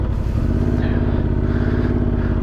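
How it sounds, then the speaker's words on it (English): Honda Transalp 750 motorcycle fitted with a Yoshimura exhaust, riding along with a steady, loud low engine drone and a slight rise in revs, no voices. "The other thing that I wanted to comment on is this Yoshimura exhaust."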